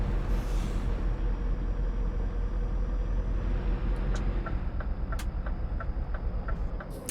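A Scania S 580 truck in a trucking video game drones at a low steady engine rumble, joined near the end by a series of sharp clicking ticks, with no talk.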